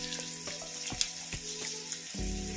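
Capsicum and ginger paste fry in a pan with a soft crackling sizzle, punctuated by regular stirring knocks, over a steady low mechanical hum that swells near the end.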